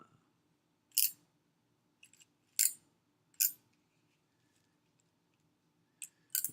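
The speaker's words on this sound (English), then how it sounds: "So I'm going to use my crimping tool to cut these off at the end." A crimping tool snips through Ethernet cable wires, cutting both insulation and inner conductors in a handful of sharp, separate clicks spaced out against near silence.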